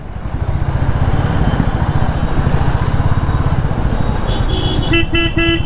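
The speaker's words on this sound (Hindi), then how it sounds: "हॉर्न वगैरह काफ़ी अच्छा" A Royal Enfield Classic 350 motorcycle idles with a loud, steady thumping engine, then its horn gives a few short, bright honks near the end.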